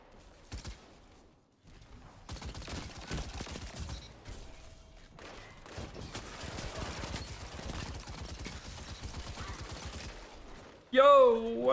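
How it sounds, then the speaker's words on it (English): Auto rifle fire in a video game, rapid bursts of shots crackling through dense game effects, with a voice talking over parts of it. "Oh, I'm supposed to be getting auto rifle kills."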